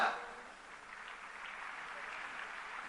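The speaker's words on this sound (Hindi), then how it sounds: "जोरदार तालियां बजती रहें" Faint, steady applause from an audience at a Delhi school award ceremony honoring students, a soft continuous wash of clapping that sounds distant and holds evenly without a break.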